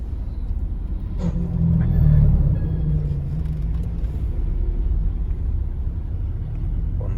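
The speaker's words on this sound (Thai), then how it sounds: "ถนนมาบยางพร ตอนนี้รถติดมากเลย" Heavy morning traffic jam on Map Yang Phon road with motorbikes riding two lanes, heard as a continuous low rumble of idling and creeping engines, a brief air-brake-like hiss early on, no talking.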